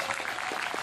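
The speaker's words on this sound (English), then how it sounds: "That deserves some applause, does it not?" Applause from a rally crowd, a dense and steady wash of many hands clapping that runs without a break through the whole short moment.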